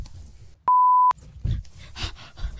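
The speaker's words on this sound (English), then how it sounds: "Imagine how many times you have to beep out the name." A single steady censor bleep tone, clean and loud, runs for about half a second, cutting out a spoken name, with casual background sound from a Fortnite Battle Royale session before and after it.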